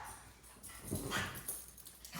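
A pet dog indoors reacts to something outside with soft, brief whimpering yips, quiet and fairly distant over a low room hush.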